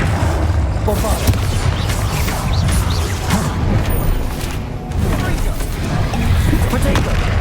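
Repeated Bombarda spell explosions in the video game Hogwarts Legacy: a dense, continuous stretch of booms, crashes and gunfire-like bursts in a loud combat mix, with spell-casting voices mixed in.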